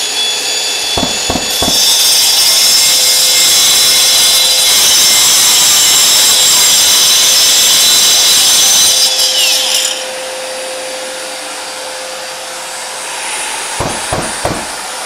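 A Hilti AG 6D-22 angle grinder cuts into concrete with a loud, steady abrasive roar that lasts about nine seconds before winding down. A few sharp knocks come just before the cut and again near the end.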